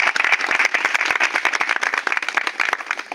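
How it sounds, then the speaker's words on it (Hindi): Dense, steady applause from a village gathering welcoming a newly elected woman village head (pradhan), many hands clapping close by for the whole stretch without a break. "हम सब ताली बजाकर उनका स्वागत करें"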